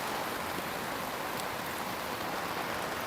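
Rain falls outdoors in a constant, even wash of noise, fairly loud and unbroken, with no voices.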